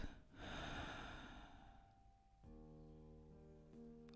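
Slow, deep breathing during a morning vinyasa yoga session, a soft close inhale and exhale followed by a quiet sustained tone, faint and alone.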